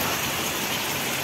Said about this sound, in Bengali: ঝমঝম করে বৃষ্টি।